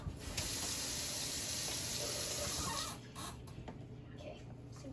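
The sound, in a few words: water running in kitchen sink while cleaning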